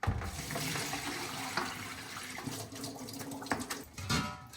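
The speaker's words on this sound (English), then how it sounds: "rinse the bowl, and then do that one more time. Cold water." Cold tap water runs steadily into a bowl of potatoes being rinsed, a continuous splashing rush with small surges and sloshes, close and alone without talk.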